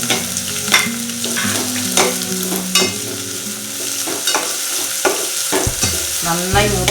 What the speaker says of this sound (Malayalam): നന്നായി മൂത്ത് വരുന്നത് വരെ ഒന്ന് വഴറ്റണം.